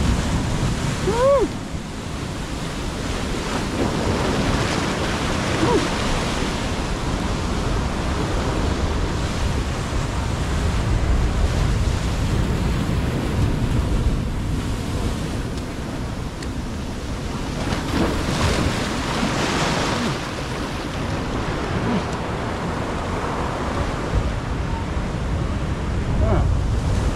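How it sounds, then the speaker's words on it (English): Decent-sized ocean waves break and surge continuously near a ramp, a roaring wash of surf with heavy wind buffeting the microphone throughout. "decent-sized waves breaking out there"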